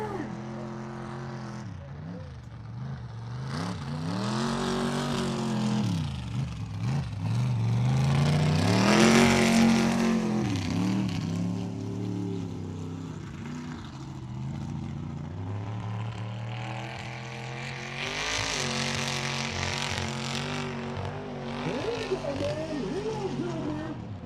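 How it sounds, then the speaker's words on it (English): Mustang super truck engine roaring and revving hard on a mud rally course, loud and sustained with rising and falling pitch as it races, under crowd noise and an announcer's voice. "Here comes the Mustang."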